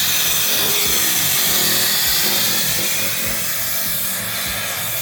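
Air hisses steadily out of off-road vehicle tires as an Indeflate system deflates them, a loud, continuous broadband rush that holds for several seconds with a faint low rumble beneath.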